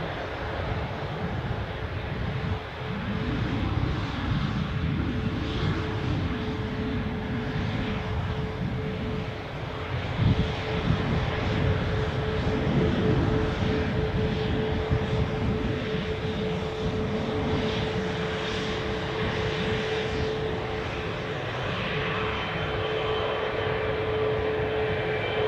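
Airplanes at Newcastle airport, a steady broad jet-engine roar of aircraft on the runway and taxiway heard from a distance, swelling slightly at moments and continuing without pause.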